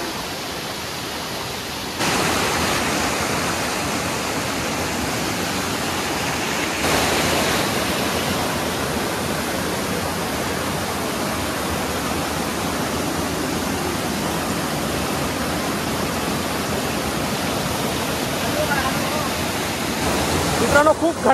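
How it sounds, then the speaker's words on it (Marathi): A waterfall in dense forest near Bhadgaon in the Konkan roars as a dense, continuous rush of falling water, loud and close, with a brief swell near the start and no pauses throughout. "खूप घनदाट जंगलामध्ये हा वॉटरफॉल आहे"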